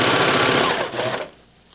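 A serger sewing machine stitching fabric for an infinity scarf, a loud fast whirring buzz of rapid needle strokes running for about a second before stopping abruptly.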